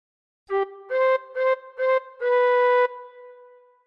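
A tin whistle plays a short phrase of We Wish You a Merry Christmas: one lone note, then three quick detached notes, then a longer held note, clear and close with no other sound.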